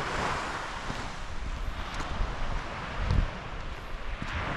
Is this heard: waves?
yes